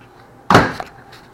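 A microwave door shut in a home kitchen gives a single sharp thump with a short rattle after it, standing alone against a quiet background.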